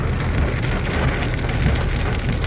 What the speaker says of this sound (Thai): ได้อวดแล้วอ่ะฝนตกแล้ว